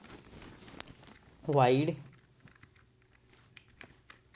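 Code is typed on a computer keyboard with scattered soft key taps, quiet and close, while someone talks briefly partway through.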